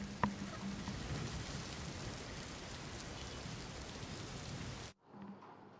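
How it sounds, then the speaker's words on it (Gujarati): Heavy unseasonal rain pours down in Bhuj as a dense, steady roar that fills the scene, then cuts off abruptly near the end into near quiet. "ભુજ આખું પાણી થઈ ગયું કમોસમી વરસાદના કારણે"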